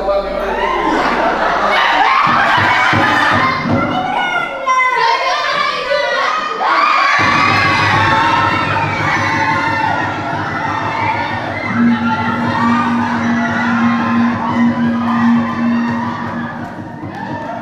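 A large crowd at an event in Lampung shouts, cheers and applauds loudly and continuously, children's voices prominent, with a sustained tonal hum coming in during the later part.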